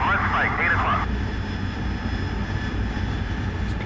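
A jet aircraft engine in the DCS World flight game drones as a steady loud roar, with a brief warbling tone near the start and a voice talking over it.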